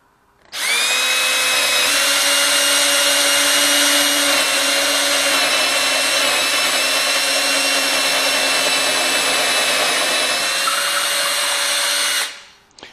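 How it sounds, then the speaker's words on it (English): A power drill whines steadily for about twelve seconds as it bores through wood, loud and close, with a constant high-pitched motor tone. "I'm going to drill through again"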